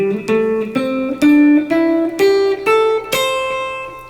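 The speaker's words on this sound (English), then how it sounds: "So when I play the scale going from lowest note to the highest note, it's going to sound like this." A guitar pentatonic scale climbs note by note from lowest to highest, each pitch plucked cleanly and ringing clearly before the next in a steady ascending run, played alone.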